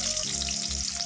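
Chopped onions sizzle and crackle in hot oil in a kadai for chicken curry, a steady close frying hiss running unbroken and alone throughout.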